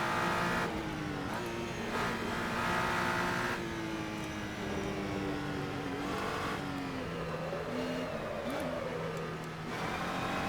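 GT3 race car engine in Assetto Corsa at Silverstone, loud close revving that climbs and drops through shifts, with a stretch of over-revving and sagging pitch where a gear is missed, then pulling again, alone without talk.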